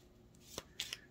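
A stiff, hard-to-shuffle deck of cards is riffled by hand in a few quick, close, crisp bursts of fluttering card noise, very brief and clear.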